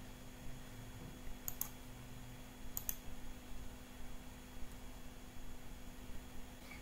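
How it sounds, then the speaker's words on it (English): Two crisp computer mouse clicks, close and quiet, over a steady hum of room noise, with no talk. "You have to click this link."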